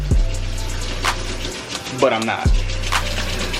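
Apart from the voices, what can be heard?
hot water running from a tap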